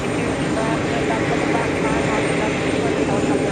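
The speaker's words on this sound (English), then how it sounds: "Jetblue 1677 heading to Jacksonville." A JetBlue Airbus A320 departing JFK for Jacksonville, heard as a steady, loud, broadband engine roar that holds evenly throughout, with faint voice traces underneath.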